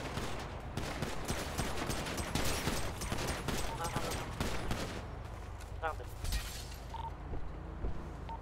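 Sustained gunfire in a shooting video game, continuous rattling shots for several seconds that thin out toward the end, with players talking over it.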